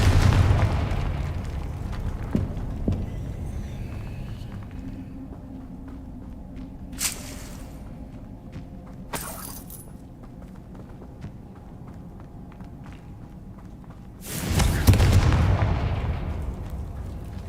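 Confringo fire spell cast in the Hogwarts Legacy video game, heard as a few sharp bursts with a heavier blast near the end over a constant game background of footsteps and ambience.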